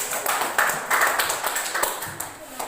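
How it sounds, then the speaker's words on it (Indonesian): A classroom group applauds, a burst of scattered hand claps with uneven rhythm rising and falling over a couple of seconds, with some talking mixed in. "mari kita memberikan aplaus juga kepada kelompok 4 yang sudah melakukan hasil"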